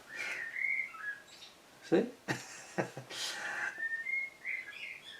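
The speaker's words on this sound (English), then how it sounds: "So I've got a very noisy blackbird out there." A very noisy blackbird sings outside, its bright whistled phrases repeating through the clip while someone speaks briefly indoors.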